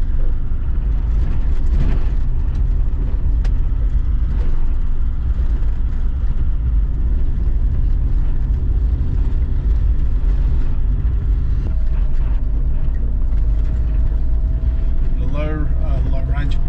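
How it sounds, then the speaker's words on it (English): A 4WD descending a hill in second gear, high range, gives a steady engine-braking drone inside the cabin that runs continuously the whole time, with a brief whine near the end. "High range engine braking, so I just changed down to second gear, high range, and that is giving us some engine braking on this descent."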